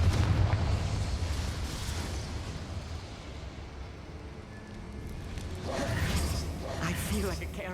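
Hogwarts Legacy's Confringo spell blows up with a loud, rolling burst at the opening that fades into a low rumble, followed by another rough blast near the end.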